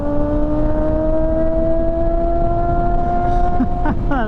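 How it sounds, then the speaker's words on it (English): A motorcycle engine holding a loud steady tone, close by, then rising and shifting pitch quickly as it speeds away, heard over constant road and wind noise. "That bike sounds amazing."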